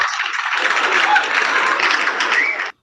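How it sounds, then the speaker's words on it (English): A burst of applause sound effect played on a radio broadcast, dense loud clapping lasting a few seconds before cutting off abruptly. "Not quite sure why we're playing applause there"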